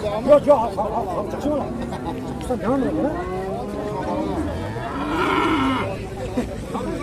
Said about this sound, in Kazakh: Жаш құнажындар.